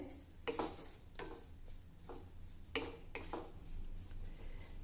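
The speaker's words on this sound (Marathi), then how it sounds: "मंद गॅसवर हे खोबरं देखील आपल्याला तांबूस होईपर्यंत भाजायचं आहे" Dried coconut is roasted on low heat in a kadhai, with a spatula scraping across the pan in faint, unhurried strokes of about one per second against a quiet background.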